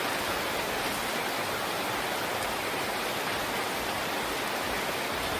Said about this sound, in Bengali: তো এখন দেখো কিরকম বৃষ্টি।